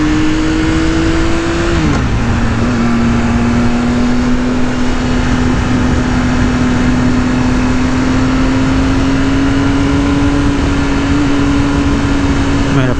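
A 2018 Triumph Speed Triple 1050 S motorcycle engine drones loudly while riding, holding a steady hum that drops in pitch after a brief shift and then rises gently, with heavy wind rush throughout.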